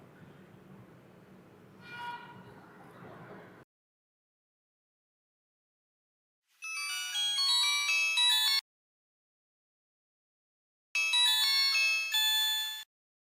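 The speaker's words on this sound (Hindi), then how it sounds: "समीर को फ़ोन करती हूँ।" A phone call ringing tone sounds as two loud, electronic, melodic bursts about two seconds long each, separated by silence, after a short stretch of muffled, low-level sound.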